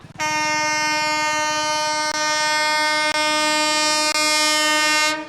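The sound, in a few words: train passing on Grand Chord railway line near Gaya Junction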